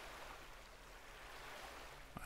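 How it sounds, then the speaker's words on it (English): Ocean waves at the seaside wash in a soft continuous roar, a faint, steady broadband surf with a low rumble underneath and a brief knock near the end, no talking. "I hope y'all are getting the noise of the waves"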